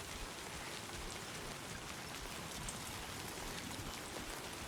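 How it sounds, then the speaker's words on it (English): Steady, even rainfall in the video game Death Stranding 2, a dense hiss of drops on surfaces that holds constant throughout at a soft, distant level, alone with no voices. "We just need this rain to stop corroding our stuff."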